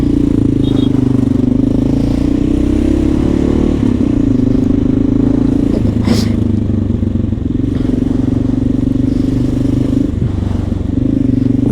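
Honda XR650L single-cylinder motorcycle fitted with a Lexx silencer, idling and blipping with a steady low thump throughout, close and loud, with a brief sharper rev burst near the middle.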